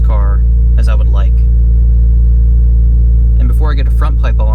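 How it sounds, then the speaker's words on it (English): A 2022 Subaru BRZ with a catback exhaust drives along, a loud, steady low engine drone inside the cabin, while people speak briefly at the start and again near the end. "I want to get you guys some really, really good clips of the car just with the catback exhaust"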